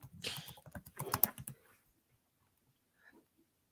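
A quick burst of close computer keyboard typing lasts under two seconds, then fades into near silence with a faint click or two afterward.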